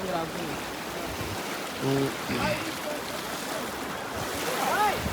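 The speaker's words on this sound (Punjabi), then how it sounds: "ਦੇਖੋ ਜੀ ਕੁੱਲੂ ਸਿਟੀ ਦੀ ਜੋ ਨਦੀ ਆ ਬਹੁਤ ਠੰਡਾ ਪਾਣੀ ਆ" A cold river in Kullu city rushes past in a broad, steady roar of flowing water with some wind, moderately close, while people talk faintly over it.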